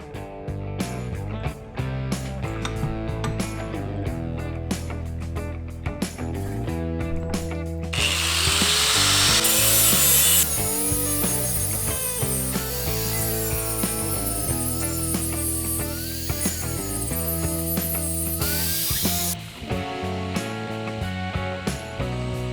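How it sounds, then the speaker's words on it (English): A grinder works down metal parts for a DIY portable fish finder mount, running in one long, loud, rough stretch of about ten seconds under continuous background music. "I'm probably going to have to grind all these down to fit."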